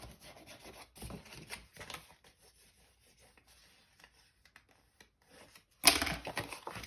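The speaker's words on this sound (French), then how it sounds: "on marque avec le plioir" A bone folder pressed and rubbed along a fold in paper to crease it while making a flap page, heard as soft intermittent scraping strokes close by, ending in a louder, sharper rub.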